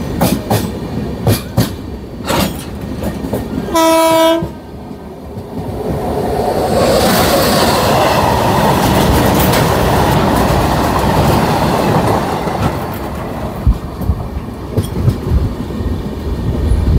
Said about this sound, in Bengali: তার মাঝের থেকেই ট্রেন ছুটে চলেছে